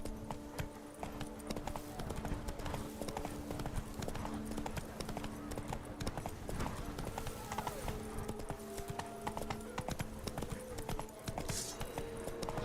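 Roach, the horse in The Witcher 3: Wild Hunt video game, trots with steady rhythmic hoofbeats over ambient game noise, with a voice speaking briefly.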